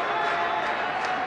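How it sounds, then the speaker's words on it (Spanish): A boxing crowd claps during the final round of a bout, a dense, steady wash of applause heard at a distance under faint crowd murmur. "Bate palmas el público."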